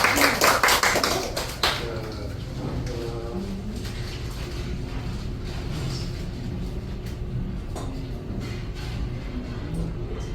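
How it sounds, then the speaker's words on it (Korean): An audience at an evening gathering after a Korean event claps in a short, loud burst that fades within two seconds, followed by voices and room noise. "우리 큰 박수 부탁드립니다"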